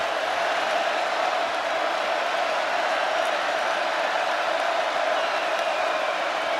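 A packed football stadium crowd at Notre Dame versus Virginia roars in a steady, sustained wash of cheering and applause, broad and continuous with no single voices standing out.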